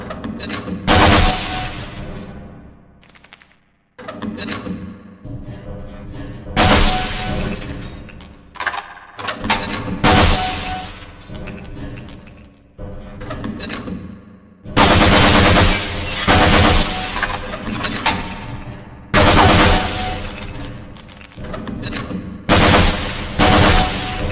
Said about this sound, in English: You've completed the Black Mesa Training Target Range.